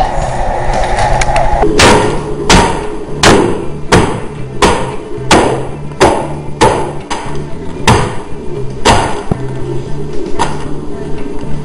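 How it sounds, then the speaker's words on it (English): A knife chops pecans on a cutting board in a home kitchen, giving a dozen or so sharp, evenly spaced thuds, close and fairly loud over faint background noise. "you can chop pecans like this."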